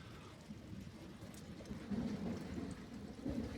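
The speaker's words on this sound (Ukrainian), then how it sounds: "Чуємо грім ще раз" Distant thunder rumbles low and steady alongside rain in a field with solar panels, the roll swelling slightly toward the end with no talking.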